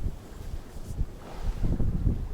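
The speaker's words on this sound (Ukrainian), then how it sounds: "Вітер дує." Gusty wind on the Desna river rumbles and buffets the microphone, with a low, uneven roar that swells louder toward the end.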